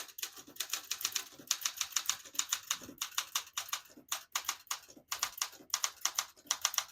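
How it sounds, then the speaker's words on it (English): Rapid clacking of the keys of a 1966 Olympia SM9 portable typewriter in bursts, crisp and close, with brief pauses between runs of strokes. "Beautiful typing machine."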